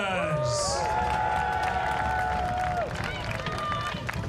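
A crowd at a buhurt tournament cheers for the Honey Badgers team. The cheering stays loud and steady throughout, with whoops and shouting voices layered over the dense crowd noise.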